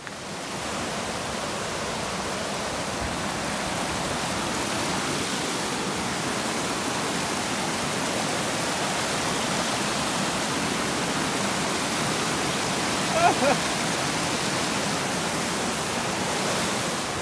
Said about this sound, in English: That there is the river crossing.